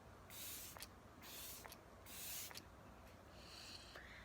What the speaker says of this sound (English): it's a very, very fine mist